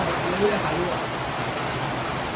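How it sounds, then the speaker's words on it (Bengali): Heavy rain falling in a steady, enveloping wash of noise, loud and unbroken from start to finish, with faint traces of a voice beneath it. "অবস্থা কঠিন বৃষ্টি হইতেছে"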